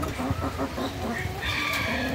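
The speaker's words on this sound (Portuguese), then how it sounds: "Essa aqui é a galinha Brahma." Brahma chickens cluck softly on a small farm, a steady low murmur of hens with occasional higher calls, close by and continuous with no talking.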